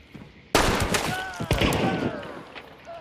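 A gunshot cracks loudly out of near silence in Hunt: Showdown during a duo fight at the Sawmill, followed by a second shot, ringing echoes and a faint later thump.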